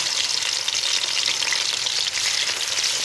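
Chicken pieces fry lightly in a pan for chicken karahi, a dense, even close-up sizzle with soft stirring texture throughout and no talking.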